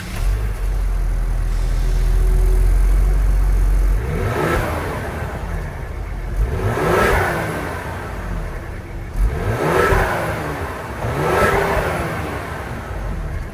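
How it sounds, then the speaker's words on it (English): A 2024 Ford Explorer ST's 3-liter twin-turbo V6 engine revs hard several times in a row, each rising and falling roar separated by a brief lull, loud and close with no talking. "that was the sound of the 3-liter twin-turbo V6 sold by Ford for the 2024 Explorer"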